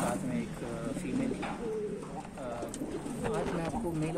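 Pigeons coo steadily in a pigeon loft, several soft overlapping throaty calls repeating close by with continuous background rustle.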